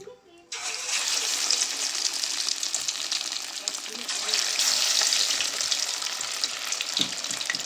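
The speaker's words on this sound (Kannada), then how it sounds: "ಮೀನು ಕಬಾಬ್ ಹಾಕ್ತಾ ಇದ್ದೀನಿ." Fish kebabs drop into hot oil and set off a loud, steady sizzle right after a short quiet start, with the hiss holding strong and close throughout.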